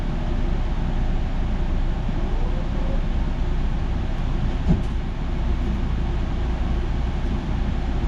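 A JFK AirTrain car pulls away toward Jamaica Station, its steady, loud rolling rumble and hum filling the cabin without a break and with no voices.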